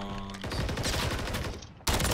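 Rapid bursts of automatic gunfire crackle in a Call of Duty MW3 ranked match, loud and close, with a short gap before another sharp volley at the end.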